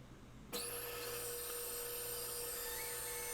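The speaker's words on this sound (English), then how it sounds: "Rough out the shape on the bandsaw." A bandsaw starts up at high speed to rough out a walnut seat, a sudden loud whine that then holds as a steady, close, high-pitched hum with no talk.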